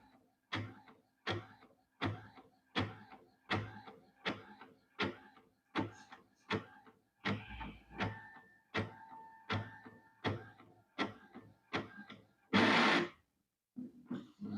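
An Epson L380 inkjet printer prints a page with a faulty head, giving a steady run of regular mechanical clacks and carriage passes, some with a tonal whine, close and fairly loud, ending in a brief rushing feed sound.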